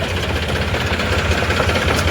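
A generator engine runs steadily up close in a farm field, a loud low rumble with a constant throbbing beat and no talk over it.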